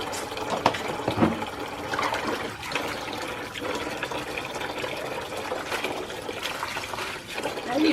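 Water pours and splashes into a pan as fabric softener is added to hand-washed whites, a steady gushing liquid noise filling the whole stretch at close range.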